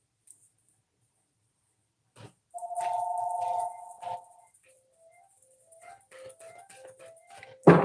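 A phone rings indoors with a sustained electronic tone followed by a stepped run of short melodic beeps, fairly clear against an otherwise quiet room.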